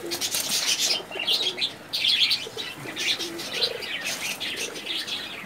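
Kanthikala pigeons in a loft give cooing calls amid bright chirps and bursts of wing flapping, a busy, fairly close mix of flock sounds.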